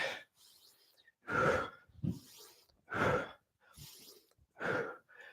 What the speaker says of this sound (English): maintain the focus on the breathing